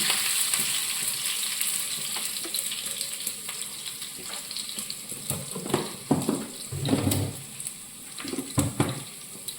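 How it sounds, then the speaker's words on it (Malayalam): Mustard seeds frying in hot oil in a home kitchen, a steady sizzle with crackling pops that grow more frequent, with faint stirring and clatter near the end. "കടുക് വറക്കാനായിട്ട് വെച്ചിട്ടുണ്ട്. കടുക് ഇട്ടിട്ടുണ്ട്."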